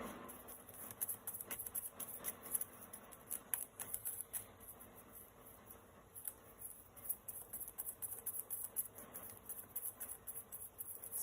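Tarot cards being shuffled during a reading, a soft, irregular patter of card edges riffling and sliding, close and quiet, running in uneven bursts with no voices.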